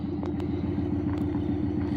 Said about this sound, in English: Here comes the other truck.